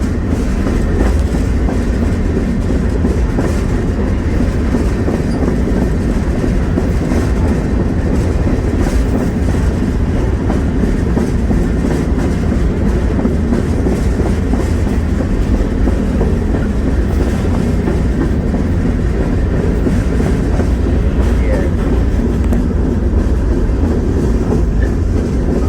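A cyanide rail car rolls on tracks through Illinois, loud and close, with a constant heavy rumble and rapid rhythmic clickety-clack of wheels over rail joints throughout, no voices.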